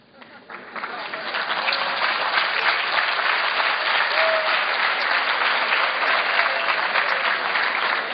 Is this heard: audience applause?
yes